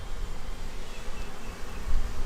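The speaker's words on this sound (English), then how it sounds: "Some bees fly and return back." Honey bees swarm around a hive entrance, a dense continuous buzzing drone that swells and fades slightly throughout, close and steady with no voices.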